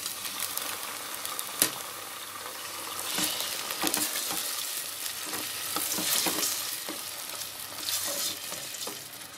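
Chopped green chillies and browned onions fry in a pan for vegetable pulao, sizzling steadily up close with frequent crackles and scraping stirs.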